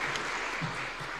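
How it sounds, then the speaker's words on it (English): Applause at a nuclear energy conference in Nairobi, a dense, steady clatter of many hands clapping throughout. "Let us give Justice Obiabi a round of applause"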